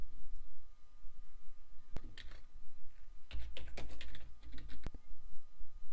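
Typing on a computer keyboard, with irregular close key clicks in quick clusters and occasional sharper single clacks, and no voices.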